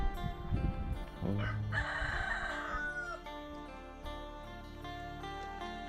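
A rooster crows once nearby, a long rising and falling call, over a farmyard backdrop with some clucking and a low steady hum.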